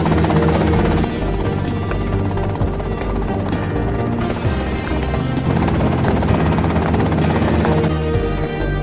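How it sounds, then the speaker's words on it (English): A helicopter flies close by, its loud rotor chop and turbine whine steady and dense throughout. "that's them in the chopper"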